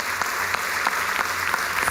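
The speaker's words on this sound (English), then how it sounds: "Ladies and gentlemen, a huge round of applause" Audience applause at the 34th Annual Conference 2022 in a lecture hall, a steady dense wash of many hands clapping with scattered louder claps, sustained and fairly close throughout.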